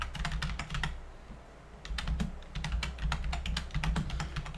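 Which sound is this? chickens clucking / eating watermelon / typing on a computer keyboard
typing on a computer keyboard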